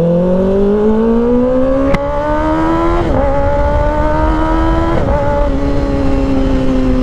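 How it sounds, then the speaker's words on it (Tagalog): Sport motorcycle engine fitted with a Shorty M4 exhaust, droning loud and close as it climbs steadily in pitch, with a couple of brief gear-shift dips along the way. "Exhaust natin syempre Shorty M4, kaya mas maingay"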